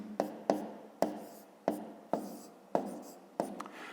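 A pen scratching numbers onto paper while setting out a multiplication problem: seven short, crisp strokes spaced roughly half a second apart, close and quiet, with no talking.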